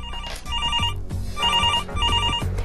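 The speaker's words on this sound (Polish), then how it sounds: "To jest sygnał telefonu od przyjaciela." A telephone rings with a repeated electronic trilling tone in short bursts, close and clear, with no voices.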